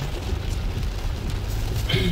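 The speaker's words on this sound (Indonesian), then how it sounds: "hujannya deras banget" Heavy rain pouring down in a constant dense hiss and patter, loud and unbroken for the whole stretch.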